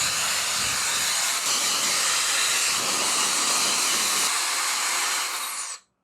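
A Shark FlexStyle air styling and drying system blows hot air over long hair in a loud, steady rushing hiss that stays constant for several seconds before cutting off abruptly near the end.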